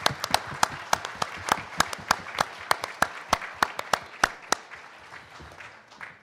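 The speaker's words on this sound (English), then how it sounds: "Daniela and her team deserve a round of applause" A modest audience at an election day breakfast applauds Daniela and her team, with distinct, sharp individual claps over softer clapping that slowly thins and fades.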